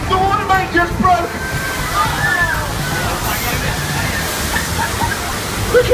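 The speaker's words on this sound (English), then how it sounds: "The water main just broke!" Water gushes and sloshes from a burst water main, a staged effect on the Universal Studios Hollywood earthquake train ride, a loud continuous rush under excited riders' shouting and talk.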